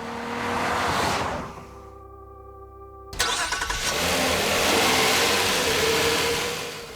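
A warm engine in a Nissan Quest minivan rises in a brief burst, dips to a quieter tonal hum, then surges back loudly in a sustained rev close to the microphone.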